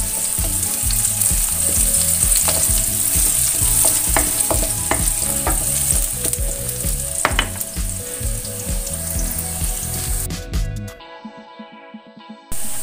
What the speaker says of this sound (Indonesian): Tumis sampai bawang merah dan bawang putihnya mengeluarkan aroma yang sedap